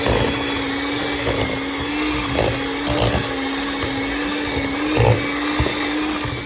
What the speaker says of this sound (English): I'm gonna use my mixer. Just gonna smash it down a little bit. And mix away.